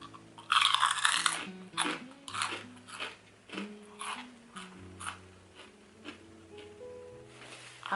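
Close, intermittent crunching and biting while someone eats, repeated irregularly over a soft background with tonal hums.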